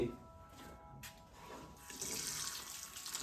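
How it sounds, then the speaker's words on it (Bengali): A washbasin tap runs as hands are washed beneath it at a homestay in Jhandi, Kalimpong, a steady close splash of water that swells louder toward the end. "হাতটা ধুয়ে নেব।"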